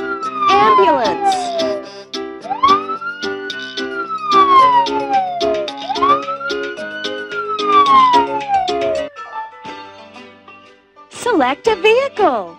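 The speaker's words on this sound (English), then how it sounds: "Ambulance!" A wailing siren rises and falls in long sweeps over busy cartoonish music, with a short burst of chirpy sound near the end.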